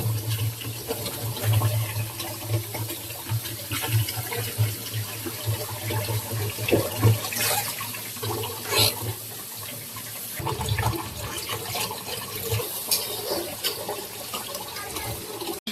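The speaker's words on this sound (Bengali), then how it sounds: "তো মুরগির মাংসগুলো এখন ধুয়ে নেওয়া হবে।" Chicken meat being washed under a running kitchen tap, with continuous splashing water and intermittent handling sounds close by.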